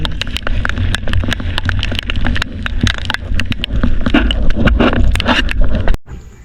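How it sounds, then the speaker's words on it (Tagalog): Heavy storm rain falls steadily and loudly outdoors at a rural home in the Philippines, a dense continuous patter with sharp drop impacts throughout, cutting off abruptly near the end. "Umulan na mga idol. Lakas. May bagyo kasi ngayon mga idol."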